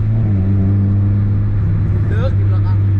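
A manual Honda Jazz GE8 hatchback's engine and exhaust drone steadily from inside the car, a low, even hum that holds throughout with a faint rise near the end, while voices murmur softly in the cabin.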